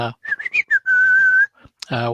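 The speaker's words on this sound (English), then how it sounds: "you begin to whistle, a casual tune" Someone whistles a few short notes, then holds a long, steady tone, clear and close, with a brief bit of speech at the end.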